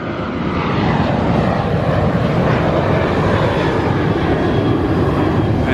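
A Southwest passenger jet takes off, a loud, steady broadband engine roar filling the whole stretch without a break, with no voices over it.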